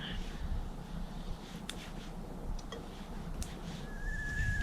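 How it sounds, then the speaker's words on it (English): A thin, steady whistle rises near the end, a kettle starting to sing over low rumbling background noise. "Can you hear that whistling? That means water's ready."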